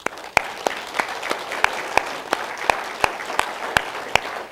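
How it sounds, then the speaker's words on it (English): A church congregation applauds: sustained clapping from a gathered crowd, with sharper claps landing in a steady, regular beat over the continuous patter. "I just think they deserve a round of applause for that."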